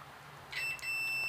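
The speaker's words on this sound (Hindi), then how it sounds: "इस पे आप देख सकते हैं इस पे बीप की आवाज़ जो आ रही है।" A multimeter continuity beep while checking refrigeration relay wiring: a faint, thin steady electronic tone starting about halfway through and holding to the end, with a small click, no talk over it.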